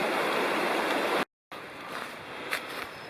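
Paint Creek in Cherokee National Forest flows with a steady broadband rush of water, near and continuous, broken by a brief dropout partway through before the same wash resumes slightly softer.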